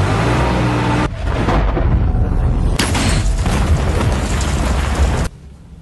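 A loud, roaring film explosion blast from an excavator scene, a sustained rumbling burst lasting several seconds before cutting off abruptly, with no talk over it.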